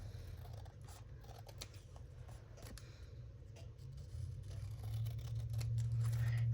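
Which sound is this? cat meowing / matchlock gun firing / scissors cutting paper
scissors cutting paper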